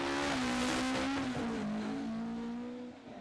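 A rally car driven flat out on a wet Jersey Rally stage in 2012, its engine holding a high, strained howl close by for the whole stretch, dipping slightly in pitch as it fades near the end.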